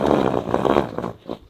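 A horse squeals loudly at another horse during a first meeting, a harsh, strained cry lasting about a second and fading off at the end.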